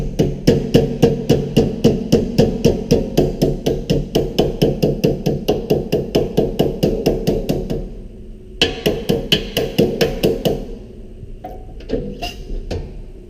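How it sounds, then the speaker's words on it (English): A sheet metal hammer taps down a Pittsburgh corner lock seam in a fast, steady series of sharp, ringing strikes, pausing briefly, then resuming before a few scattered lighter knocks. "with my sheet metal hammer, I'm just going to tap that back down"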